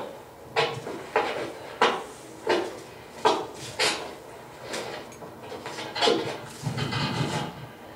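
A heavy granite door on a mausoleum more than 100 years old is worked open, producing a series of about a dozen separate clunks, knocks and scrapes, fairly close and at moderate volume, with no talking.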